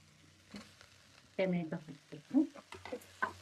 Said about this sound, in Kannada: ಚೆನ್ನಾಗಿ ಫ್ರೈ ಆಗಬೇಕು